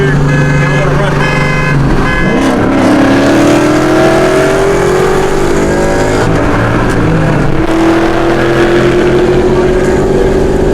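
Two Ford Mustangs race side by side, one fitted with a high-flow catted exhaust; a loud, continuous engine drone climbs steadily in pitch through the gears, with wind roar and a brief shift dip midway, and some talk mixed in.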